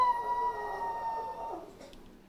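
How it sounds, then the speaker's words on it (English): A dog howls in a long, sustained, wavering tone recorded up close indoors, the pitch sliding gently and fading out near the end, with no talk over it. "So that's what the dog sounds like howling."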